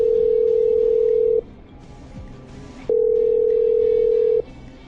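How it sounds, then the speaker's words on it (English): A telephone handset gives a steady, loud dial tone in two long stretches with a short quiet gap between them. Nobody speaks. "I'm dialing."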